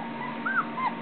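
A puppy whimpering, two short high, rising-then-falling whines, faint and close, with a steady low hum underneath and no talking.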